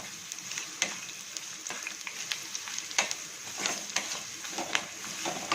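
Ginger sizzles and crackles in hot oil as a utensil stirs and scrapes the pan in irregular bursts, while cooking Chettinad pepper chicken.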